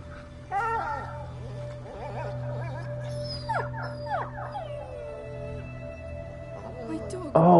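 A dog in A Plague Tale: Innocence whimpers and lets out a series of short rising yelps and howls over a steady low game ambience, fairly close and moderately loud, ending in a sudden louder burst.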